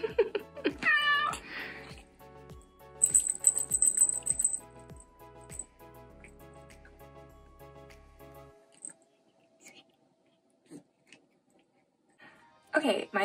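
House cat meowing repeatedly indoors, a series of close, rising cries in the first several seconds, then quieter with only sparse faint sounds before more noise returns at the end.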